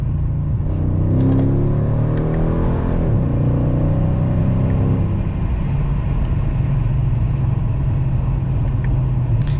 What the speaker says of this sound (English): I'll do a quick pull here for you guys in second gear.